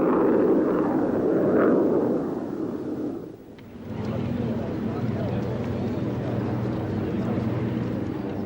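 A Soviet MiG-27 jet with its R-29-300 engine roars loudly at low level, a dense broadband rush that dips briefly and then settles into a steady, droning engine tone, with the announcer's voice running over it.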